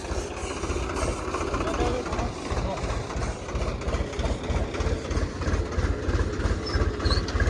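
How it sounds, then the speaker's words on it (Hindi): A tractor arriving at a farm field, its engine giving a steady, pulsing low rumble with a rhythmic chug that runs throughout, fairly loud and close, with no talk over it. "और ये ट्रैक्टर आ रहा है। फाइनली गाइस ट्रैक्टर आ गया है हमारा।"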